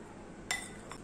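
Flour being added to a mixer jar in a home kitchen, heard as a sharp clink of a utensil against the jar followed by a softer second tap, close and fairly quiet.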